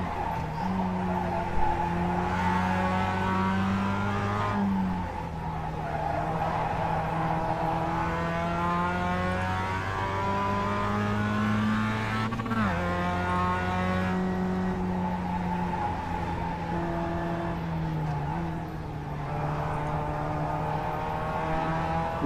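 A Mazda MX-5 race car at Charlotte Road Course in iRacing drones loudly through the gears, the engine note climbing and dropping with upshifts and braking, with a brief tyre squeal in places.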